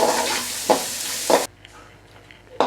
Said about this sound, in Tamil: சாப் பண்ண ஆனியன், அந்த ஒரு ஆனியனையும் ஆட் பண்ணிக்கோங்க.